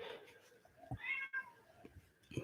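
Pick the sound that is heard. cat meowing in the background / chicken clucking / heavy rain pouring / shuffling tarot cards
cat meowing in the background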